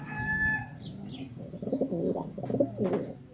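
A quality pigeon with partial Reso bloodline coos up close in a repeated, throaty, rolling rhythm that swells and fades several times, with no talking.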